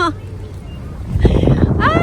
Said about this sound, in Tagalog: Ang sakit sa tenga ng hangin.